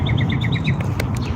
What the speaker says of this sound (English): See, it's nice how you hear the birds chirping.